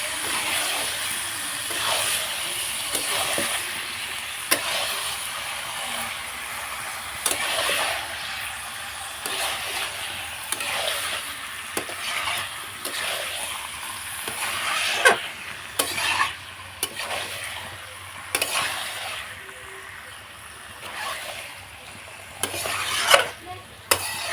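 Chicken pieces stir-fried with spice masala in a pot over a clay stove, repeated scraping and clanking of a spatula against the pot over a continuous sizzle, close and fairly loud, no talking.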